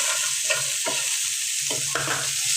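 Chopped onions frying in oil in a pan, a steady loud sizzle broken by repeated scraping stirs of a utensil, close up with no voices.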